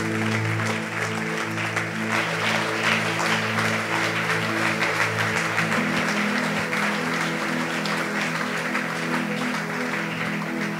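A church congregation applauds during a Saturday youth service, steady sustained clapping from a crowd over a continuous organ-like musical hum that runs underneath the whole time.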